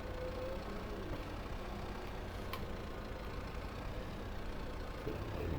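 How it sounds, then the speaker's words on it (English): A farm tractor idles along slowly in first gear while moving cows, its steady low engine drone continuous and unbroken, with no talk over it. "Chop the tractor down to first gear a little bit slower."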